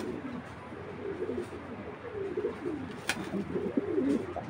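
A racing pigeon, a black checker, coos in soft, repeated throaty bursts close by, with faint background noise and a brief click partway through.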